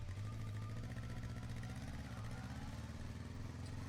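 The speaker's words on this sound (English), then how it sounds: "I turned on the engine." Engine from the video game Raging Loop, turned over and settling into a steady, low rumbling idle with a faint clatter, continuous and fairly close throughout.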